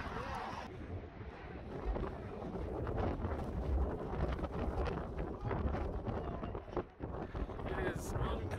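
Cold, damp wind buffets the microphone outdoors on muddy ground, a loud rumbling roar that swells and dips with a sharp lull near the end, while a person speaks under it.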